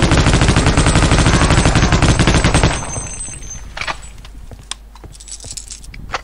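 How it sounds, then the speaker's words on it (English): Rapid sustained machine gun fire in Half-Life: Opposing Force, a loud dense rattling burst for about two and a half seconds, then stopping abruptly, leaving scattered faint clicks and distant pops. "Now these machine guns are very interesting."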